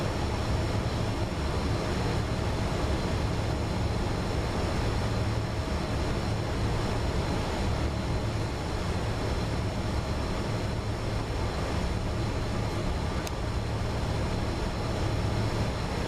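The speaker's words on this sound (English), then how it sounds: "it is so nice to hear engines" Fokker F28 jet engines run in the flight simulator MSFS 2024, a continuous, even drone with a thin high whine that holds steady throughout, with no talking.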